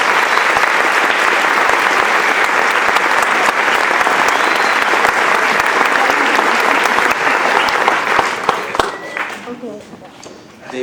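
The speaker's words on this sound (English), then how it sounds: "how about a big round of applause for all the great staff at Cherry Road School" A school concert audience gives Cherry Road School staff a long, loud, dense round of applause with scattered cheers, sustained for about nine seconds before fading to a few last claps and a murmur of voices.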